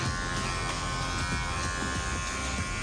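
An electric hair clipper with a one guard, opened all the way, hums with a steady, loud, close buzz as it fades a mullet, running unbroken throughout.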